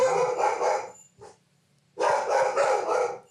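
Two bursts of a dog's barking, close and fairly loud, separated by a short quiet gap, heard during a fishing-rig tying session.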